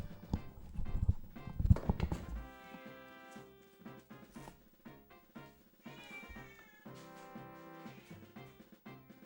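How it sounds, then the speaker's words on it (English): A cat trying to dig its way out makes a flurry of thumping, scratching sounds, then gives several drawn-out meows over a soft tonal background, heard fairly close. "There's a cat that's trying to dig its way out."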